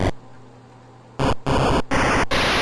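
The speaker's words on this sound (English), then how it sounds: "That's all the noise channels on the PSG." Harsh digital noise from the PSG sound chip noise channel on a MegaMIDI synth: a low buzzing hiss, then three loud full-band bursts of white-noise static in quick succession, each cutting off abruptly.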